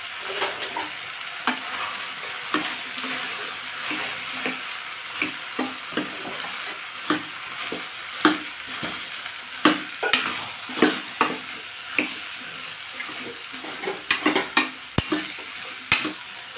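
Elephant foot yam curry with sambar powder is stirred in a frying pan, where a soft steady sizzle runs under regular scraping and tapping strokes of a spoon against the metal, quickening toward the end, and no one speaks.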